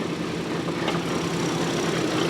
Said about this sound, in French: quand on ouvre le capot, le moteur s'allume